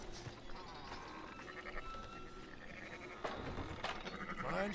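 Sheep bleating in the Red Dead Redemption 2 game world, several bleats over a busy ambient farm bed with some faint voices in the background, growing louder toward the end.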